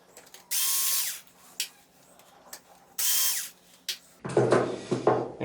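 A power screwdriver backs screws out of a Sony XBR-55X900C television during disassembly, two loud whirring bursts a couple of seconds apart with small ticks between, then rattling handling noise at close range.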